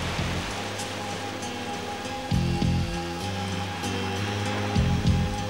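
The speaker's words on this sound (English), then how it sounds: "I didn't expect it to rain." Rain in a cartoon scene falls steadily as a broad, even hiss of water, with low rumbling swells and soft thuds rising briefly under it.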